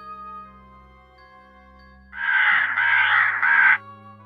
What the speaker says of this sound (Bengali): খাঁচার ভেতর থেকে কাকটা আবারও কা কা করে দুবার ডাকলো